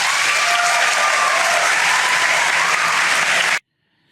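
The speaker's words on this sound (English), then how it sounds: "the cheering here at Cambridge, no less, is pretty sad" An audience at Cambridge applauds and cheers in a loud, dense wash of clapping that cuts off abruptly into silence.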